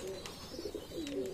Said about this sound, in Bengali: এই যে আমার 35 কবুতর